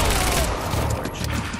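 Rapid gunfire from the video game Quantum Break, dense overlapping shots and booms in a busy combat mix, loud and continuous for the whole short stretch.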